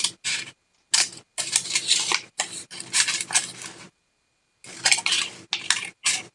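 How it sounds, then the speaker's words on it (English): Scissors cut around a paper Mobius loop in a run of crisp snipping and rustling strokes, close and clear, broken by a couple of brief pauses. "I want to put my scissors here into that line"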